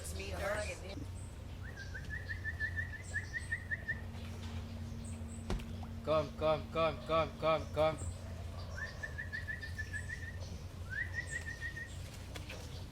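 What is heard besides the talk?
black-crowned night heron and other birds calling, Black River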